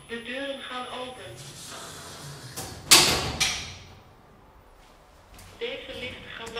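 In a Ghent parking garage, a 2013 OTIS Gen2 machine-room-less traction elevator's doors open with a sharp hiss and a rumbling slide. Tonal chime-like sounds come before and after the doors move.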